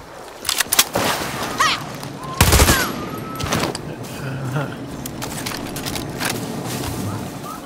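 Rapid bursts of flame-round gunfire from a weapon in the video game Far Cry 6, crackling loudly in clusters with a heavy blast around the middle, mixed with other game sounds and a voice talking over it.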